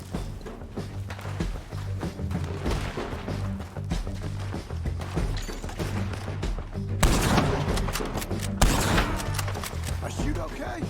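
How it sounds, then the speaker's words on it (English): Gunfire in Red Dead Redemption 2 during the epilogue: loud sharp shots break out over steady background music, with people talking across the exchange. "Ну, ты стреляешь."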